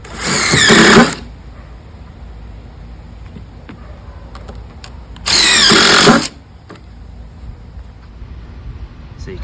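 A power drill drives screws into a floating deck's boards near the board end, two loud bursts of about a second each separated by quieter room noise.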